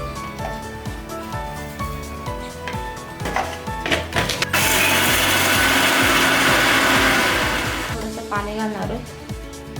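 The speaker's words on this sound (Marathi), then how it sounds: "आता हे मिक्सरला बारीक करून घ्यायचे" A mixer grinder grinding peanuts with green chillies and salt for chutney whirs loudly for several seconds, rising to a dense steady roar in the middle, with clattering and knocking before and after.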